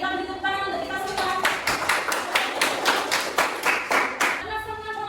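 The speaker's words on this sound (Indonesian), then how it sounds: "Jadi kita beri tepuk tangan untuk kita semua." A classroom group claps together in a brief burst of quick, evenly spaced applause lasting a few seconds, with voices audible just before and after.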